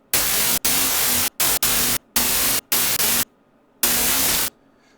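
Electricity effect built from gated white noise: loud bursts of broadband hiss switch abruptly on and off in an irregular stutter, with a faint buzzing hum, alone and without talk.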